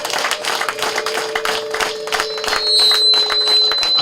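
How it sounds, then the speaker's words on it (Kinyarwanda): Applause for an elder at a Rwandan wedding: a crowd clapping steadily throughout, dense and fairly loud, with a faint steady hum underneath and no talk. "mwamuhaye amashyi"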